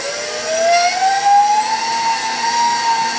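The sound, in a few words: stand mixer meat grinder attachment running at speed 4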